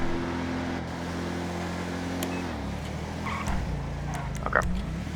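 A 2008 Dodge Charger police car drives in first person in the FiveM game, its steady engine drone holding a constant pitch before shifting down mid-clip, with faint clicks and chirps above.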